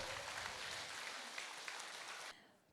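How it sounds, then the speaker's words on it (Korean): An audience at a 30th anniversary ceremony of the Gunsan Red Cross Lifelong College in Korea applauds with dense clapping that holds steady, then cuts off sharply and fades near the end. "여러분의 박수 부탁드립니다."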